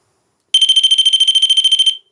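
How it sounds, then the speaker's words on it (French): An electronic device used in a paranormal investigation rings once, giving a single loud, rapidly pulsing high-pitched beep that lasts about a second and a half against silence. "le principe c'est de faire sonner une fois l'appareil pour oui et 2 fois pour non"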